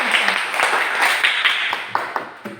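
Classroom applause for a classmate, a short burst of many hands clapping at close range that thins out toward the end, with scattered sharper claps.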